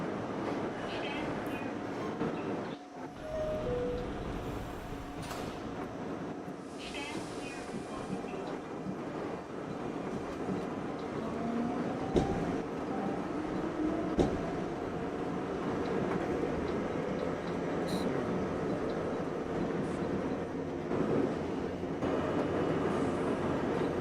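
E-train rolling along its line, a continuous rumble of rail noise with occasional clicks and squeals, steady and close throughout.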